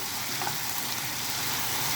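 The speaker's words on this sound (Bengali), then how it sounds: "তেল মশলার সঙ্গে পুরো কষা কষা ভাজা ভাজা জিনিসটা হবে" Spice paste frying in oil, cooked down until the oil separates before okra is added, sizzles in a steady, dense crackle lasting throughout at moderate closeness, with no voices.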